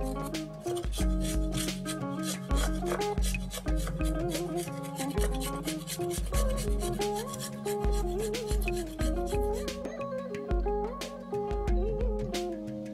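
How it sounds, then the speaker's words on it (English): A raw potato is rubbed against a grater in quick repeated rasping strokes, steady and close with brief pauses between bursts, no talking. "I have a raw potato which I'm going to grate."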